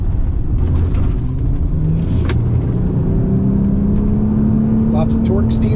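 A 2009 Nissan Murano, just repaired after misfires and low power, accelerates hard on a test drive, its engine tone climbing steadily from inside the cabin with road noise and a voice over it.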